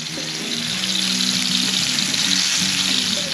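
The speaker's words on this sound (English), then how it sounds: "Shallow frying in some oil." Steady, loud sizzling and crackling of flour-dusted trout shallow frying in hot oil, continuous throughout with no talking.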